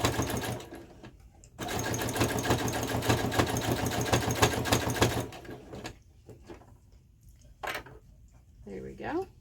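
Sewing machine fitted with a ruffler foot stitches through thick fabric seams on a patchwork skirt, a loud steady mechanical chatter running for several seconds, then stopping, followed by quieter handling sounds.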